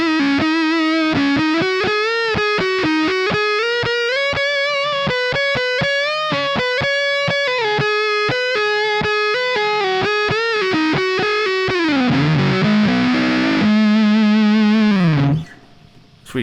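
A semi-hollow electric guitar with P90 pickups, played on the neck pickup through a Fux fuzz pedal, rings out loud and saturated with a thick, sustained distorted tone and fast picked notes, closing on a long held chord that cuts off.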